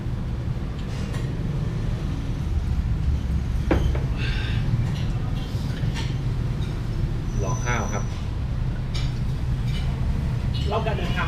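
Steady low rumble of a train rolling along the tracks near Pyin Oo Lwin, Myanmar, with occasional metallic squeals and clanks rising over the constant drone, a voice faintly underneath.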